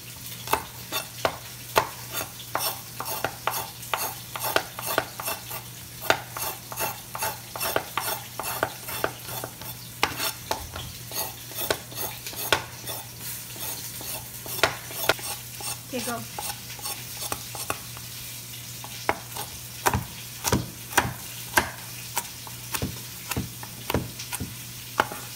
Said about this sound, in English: We're still browning the second batch